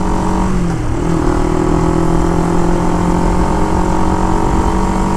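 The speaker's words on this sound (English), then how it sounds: "I wish it had a deeper sounding exhaust, personally, but it's not my bike" A Yamaha V Star motorcycle idles with its exhaust running, a loud, steady low rumble with a slight shift near the first second, close by and with no talking.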